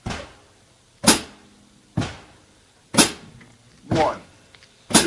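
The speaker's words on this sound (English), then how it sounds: "that sound of my heel dropping is just as important as the closing of the hi-hats" Drum kit hi-hat worked by foot alone, with heel drops and toe closes alternating as six evenly spaced, sharp chick-and-thud strikes about one second apart, close and clear with no talk.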